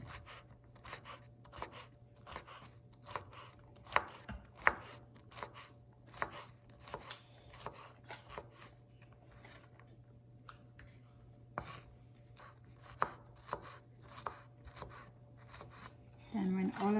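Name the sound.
chopping peppers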